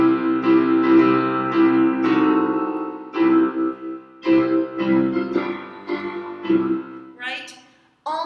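A hymn played on a keyboard instrument in strict five-part style, read straight from the hymn book, with firm, repeated chords struck in a heavy, almost banging rhythm with short gaps, sounding close and alone.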